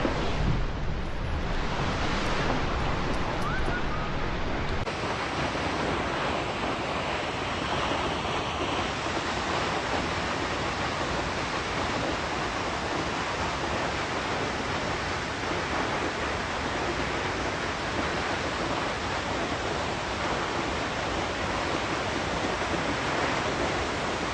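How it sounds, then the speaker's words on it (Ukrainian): Rushing water roars steadily and loudly, a dense continuous broadband wash of a stream heard up close, unbroken for the whole stretch. "вода шумить у потічку"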